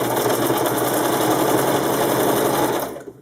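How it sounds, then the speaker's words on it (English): A sewing machine stitches Velcro in a loud, close, continuous run of rapid mechanical clatter that stops abruptly after about three seconds. "the sewing machine will jam a lot if you try to sew it with the loop side down"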